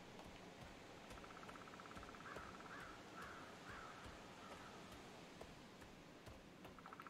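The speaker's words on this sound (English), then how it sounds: "I like these sounds, just crows and" Crows caw in a few short repeated calls over a soft wind-like hiss in Legends of Aria, a fantasy online game; the sound is faint and distant, with no voices.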